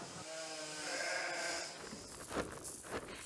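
Sheep bleat on a farm during shearing: a long wavering cry from one animal, then shorter bleats from others nearby, over steady background farmyard noise.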